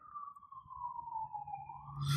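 A police car siren passes outside, a loud steady wailing tone that dips and rises again, with a noise burst at the end.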